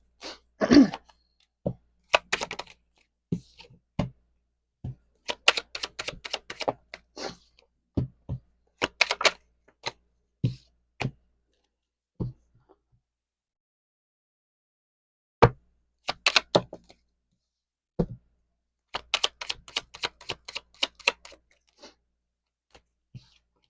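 Tarot cards are gathered and shuffled in scattered bursts of soft flicks, taps and riffles, close by with silent gaps between handlings.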